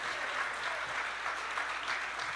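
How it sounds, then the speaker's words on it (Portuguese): A church congregation applauds during a Sunday celebration service, a steady wash of clapping holding at an even level throughout, with no voices breaking through. "Pode aplaudir Jesus"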